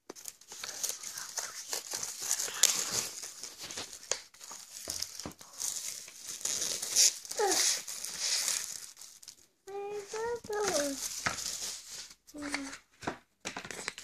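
Crinkling and tearing of wrapping as a package is pulled open, in irregular bursts, with voices talking nearby.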